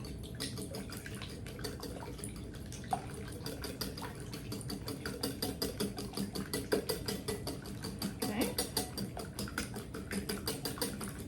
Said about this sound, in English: And you're just going to whisk those up real quick.